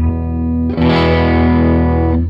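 A single sustained electric guitar chord through a Fender Tone Master Pro rings out with overdrive and a delay effect, thick and distorted, held loudly before fading.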